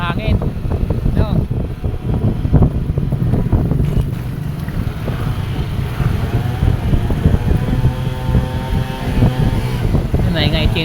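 Strong wind buffets the microphone in a steady, loud roar, with traffic-like rumble and occasional voices underneath.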